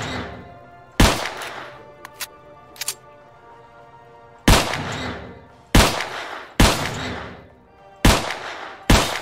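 Gunfire in the shooter game S.T.A.L.K.E.R. Clear Sky: a string of loud, sharp single shots with ringing decay, first one shot, then several more spaced irregularly, with a few small clicks between them.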